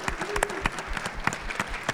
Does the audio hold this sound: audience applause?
yes